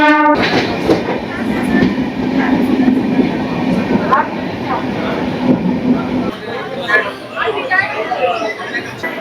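The Puri–Howrah Dhauli Express runs along the track, a loud steady rumble and clatter of carriages heard from inside, with a horn sounding and voices talking over it.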